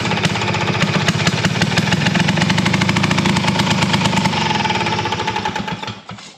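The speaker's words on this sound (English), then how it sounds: "when we hit this throttle, she fires right up" A custom Harley-Davidson engine runs loud and close after starting, a rapid, rough, knocking roar held steady with the throttle open, then easing off and dropping away at the end.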